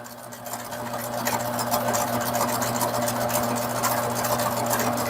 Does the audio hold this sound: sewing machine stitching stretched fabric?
yes